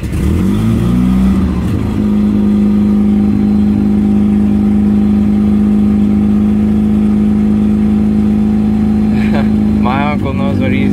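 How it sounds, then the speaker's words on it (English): Car engine with a faulty choke, being choked by hand, drones loud and close at a sustained high idle with a strong steady hum. Speech breaks in briefly near the end. "The choke doesn't work, so he's kind of choking it out right now."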